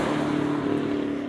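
Chevrolet Camaro 1SS coupe with a 6.2-liter LT1 V8 idling steadily, a low even rumble held close and loud throughout with no voices.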